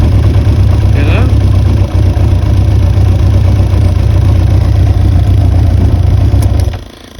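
A Yamaha Diversion 600 motorcycle engine ticks over at just under 1,000 rpm, a loud, steady low idle that runs evenly for about seven seconds before cutting out near the end.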